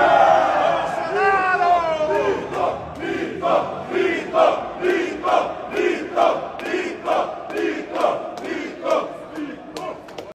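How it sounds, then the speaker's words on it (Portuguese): Crowd at Bolsonaro's arrival at the Câmara in Brazil, cheering and shouting a rhythmic chant of "mito", loud repeated bursts of massed voices close by. "Aonde Bolsonaro chega, é aplaudido e recebido aos gritos de mito."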